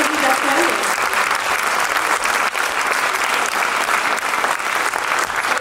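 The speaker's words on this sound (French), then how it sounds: "Vous pouvez les applaudir" An audience applauds steadily and loudly at a presentation of a Ukrainian group in Sartrouville, dense continuous clapping filling the whole stretch with faint crowd murmur beneath.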